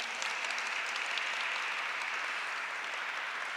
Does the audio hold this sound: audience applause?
yes